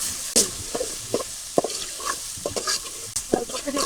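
Prawns and fish pieces fry in oil with a steady sizzle, broken by repeated clattering scrapes and knocks of stirring close up, in an irregular rhythm.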